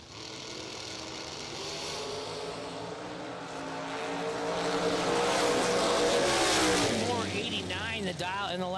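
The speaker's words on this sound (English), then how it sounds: "The Datsun 280Z in the right-hand side versus the Olds Cutlass Supreme in the left." At a bracket drag race, a Datsun 280Z and an Olds Cutlass Supreme roar continuously, the engine noise building steadily in a loud, dense wash with a rising whine near the end.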